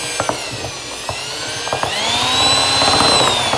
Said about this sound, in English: just use your drill